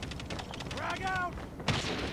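Gunfire in Call of Duty Mobile during a ranked Domination match, with rapid automatic shots rattling under a voice, then a sharp louder report near the end.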